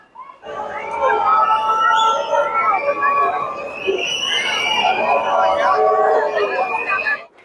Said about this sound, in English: here you can clearly hear them booing in the background